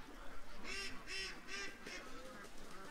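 Ducks quack and honk a short way off outdoors, four or five nasal calls in a steady rhythm over a faint background hiss.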